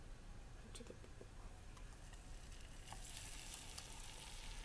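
An egg for a Sri Lankan omelette fries in a hot pan, giving a steady, close, moderately loud sizzle with scattered small crackles and pops that grows slightly brighter toward the end, with no talking.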